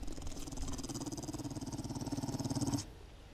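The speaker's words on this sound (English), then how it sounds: "I hear a dog somewhere." A dog in the video game 7 Days to Die growls in a fast, rhythmic throaty rattle that stays faint and continuous, then cuts off abruptly.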